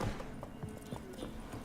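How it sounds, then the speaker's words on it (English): Hooves of a horse clip-clop in The Witcher video game, a soft, uneven run of muffled beats at moderate distance over a steady low background. "whoa there, Roach"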